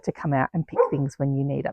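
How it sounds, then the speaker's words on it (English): Dogs barking in short bursts at home beside a garden and greenhouse in Australia, mixed in with someone speaking over them. "you're going to have to excuse my dogs that of course are going to decide to bark"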